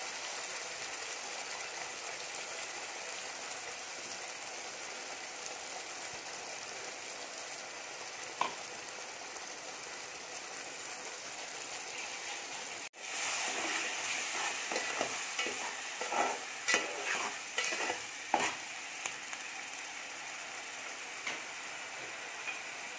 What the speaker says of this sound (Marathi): मसाला चांगला तेल सुटेपर्यंत आपण भाजून घेणार आहोत।